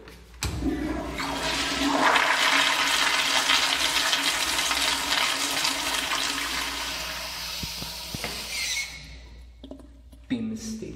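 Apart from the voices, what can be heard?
Kohler Highcrest toilet flushing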